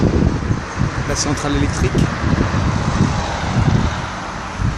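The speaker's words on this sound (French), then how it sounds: "il y a du vent sur le port Est" Wind blowing across the East port on Réunion, a steady broadband rush with gusty swells that stays up the whole time under someone speaking French, with distant traffic-like rumble mixed in.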